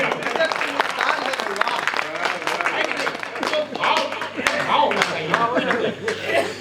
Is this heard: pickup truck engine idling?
no